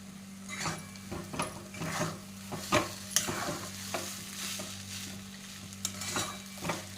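A spoon stirring cooked upma in a pan, giving a run of irregular scraping and tapping strokes with a light sizzle underneath, close and fairly loud.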